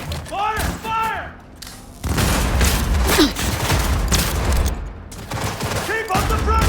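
Intense gunfire from the Cyberpunk 2077 video game, dense volleys of shots and thuds in a loud firefight, with shouted commands over the battle.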